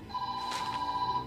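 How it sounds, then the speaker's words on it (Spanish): A telephone rings with a steady electronic tone, held for about a second, moderately loud and alone with no talk over it. "Teléfono."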